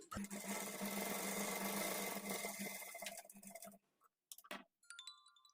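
Sewing machine stitching lining and piping for sleeves, a close steady mechanical whir for about three seconds, then slowing into a few short bursts before stopping.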